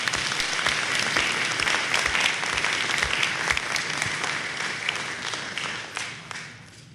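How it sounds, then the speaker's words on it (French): A conference audience gives a round of welcoming applause, many hands clapping in a thick, sustained wash that gradually thins and fades toward the end. "Je pense qu'on peut les saluer par une bonne main d'applaudissements."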